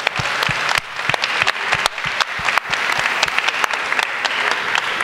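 Sustained applause from a convention crowd at a charity stand event at a comic con, dense and steady clapping with sharp individual claps standing out throughout.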